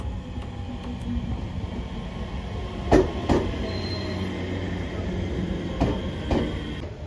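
A JR Shikoku 7000 series local electric train rumbles past near a station, with a steady low roar of wheels on rails and a few sharp clanks and squeals of wheels and couplings standing out from the noise.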